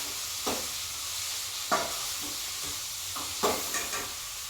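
Food sautés in a large amount of oil, a steady close sizzle broken by several scraping stirs of a spoon against the pan.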